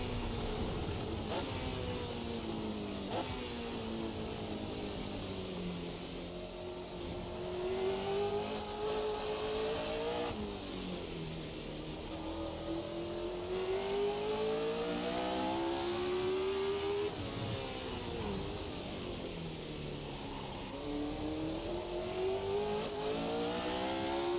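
A Formula 1970 V8 race car without wings in a racing sim, its engine revving up through gears in repeated rising sweeps, loud and continuous for the whole lap.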